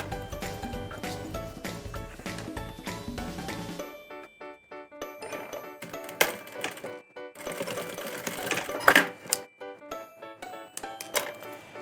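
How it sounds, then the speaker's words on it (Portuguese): Sewing machine stitching fabric for a handmade handbag, running in steady bursts with a brief quieter stretch, plus light metallic clinks and taps of handling nearby; no talking. "Vou passar uma costurinha aqui"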